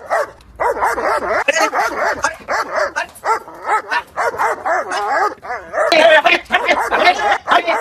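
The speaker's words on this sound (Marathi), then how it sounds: "कुत्र्या तू मध्ये येऊ नको. सरक सरक." Dog barking repeatedly in close, loud bursts with yips and whimpering, mixed with a voice talking over it in a lively home setting.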